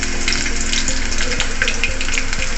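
Green chillies and tempering seeds fry in a hot pan for a brinjal curry, producing a loud, continuous crackling sizzle with no talk over it.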